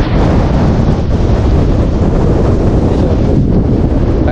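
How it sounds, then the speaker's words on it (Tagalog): Strong wind roars against the microphone in a steady, loud, buffeting rush, with a faint wash of water beneath it and no voices. "kahit na malakas ang hangin"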